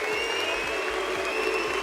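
Steady applause from an esports arena crowd after a Rocket League championship game, a dense continuous wash of clapping with no pauses.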